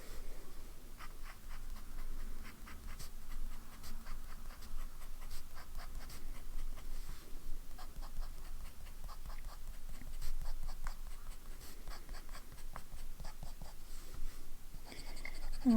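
A TWSBI Eco fountain pen with a broad nib and lime green ink scratches across paper in a steady run of soft, close strokes and small ticks, with no voices.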